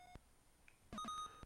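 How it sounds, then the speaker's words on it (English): Simple electronic beeps from the Game Boy game Alleyway, with no music: a few short, quiet tonal bleeps, the last ones in a quick cluster, heard alone. "there's just the very simple beep boop sounds"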